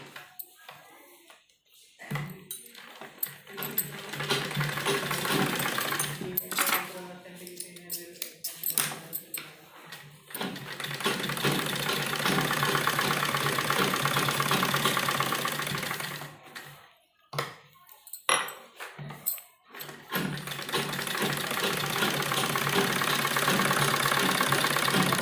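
A sewing machine stitches a baby frock in long bursts of rapid, buzzing whirring, broken by short pauses and a few quick start-stop runs.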